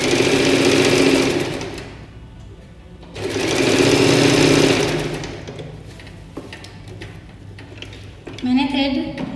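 Sewing machine stitching fabric in two loud, close bursts of rapid mechanical whirring, separated by pauses with quieter handling clicks and a short final run.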